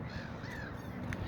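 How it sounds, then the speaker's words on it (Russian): Gulls calling near a lake by the tower and castle of Vyborg, the cries faint and drawn out under a steady rush of cold spring wind. "там записываю, чайки"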